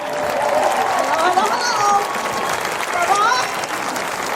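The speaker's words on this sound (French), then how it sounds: "La Valette, un tonnerre d'applaudissements." Studio audience at a French television variety show applauds a singer's entrance, a steady wash of clapping with a few cheers, while a presenter talks over it.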